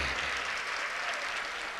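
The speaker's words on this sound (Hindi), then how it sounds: "इनके लिए जोरदार ताली बजाइए" Sustained applause from a poetry mushaira audience, dense and even clapping that fills the whole stretch without pause.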